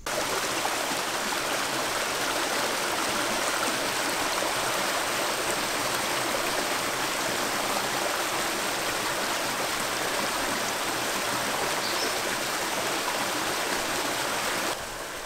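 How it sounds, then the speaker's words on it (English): Water flows steadily in a gorge stream, a loud, constant rushing wash that holds unbroken and close for the whole stretch, with no voices. "Water's flowing right down into that rock, in those rocks."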